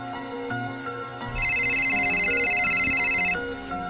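A mobile phone rings with a steady electronic tone that repeats for about two seconds at moderate level over a quiet indoor room tone, with no talking.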